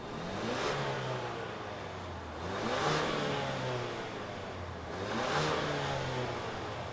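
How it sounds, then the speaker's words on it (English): A 2022 Ford Explorer ST-Line engine revs in three rising and falling pulls, a steady mid-pitched roar swelling and easing back between each, close by with no talk. "let's fire it up and see it in motion"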